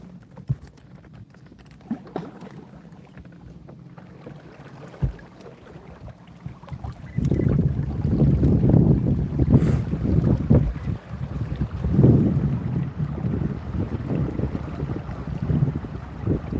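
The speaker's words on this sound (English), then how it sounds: "Ooh, this wind is picking up." Wind gusting over a kayak on open water during bass fishing, heard as a low, rough microphone buffeting that swells loudly after a quieter start with a few faint knocks.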